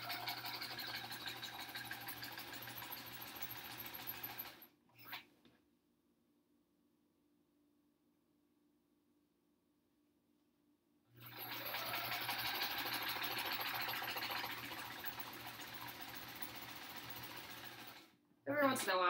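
A sewing machine stitches quilt triangles in two long, steady whirring runs separated by a quiet pause of several seconds, close and continuous, ending with a brief restart.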